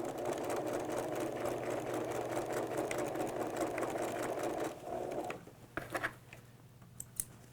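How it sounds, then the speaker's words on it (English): A sewing machine stitches a woven waistband seam with a steady, close mechanical whir for about five seconds. It stops, then a few short bursts and clicks follow as it backstitches and the fabric is handled. "And now I can sew a 5/8 inch seam allowance on the end."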